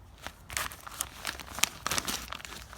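Plastic packaging crinkles and tears as an Audi toolbox bag is unwrapped, a close, quiet run of rapid irregular rustles and crackles.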